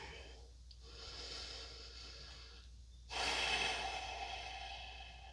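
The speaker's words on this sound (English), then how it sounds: "Take nice deep inhales and exhales." Slow, deep breathing from someone resting in child's pose during a yoga session: long airy exhales broken by brief pauses, then a stronger, louder breath that trails off gradually, close to the microphone with no talking.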